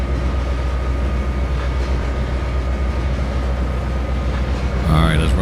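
A freight train hauling oil tanker wagons in the Trainz 2022 railway simulator rolls past in a steady, dense rumble with faint rhythmic wheel clatter, continuous and fairly loud, with a brief tonal squeal near the end.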